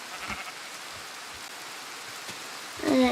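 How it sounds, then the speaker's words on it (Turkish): Soft, even rain patters through the Minecraft video game, with a few scattered thuds and a bleat-like animal call near the end. "yağmur yağdı"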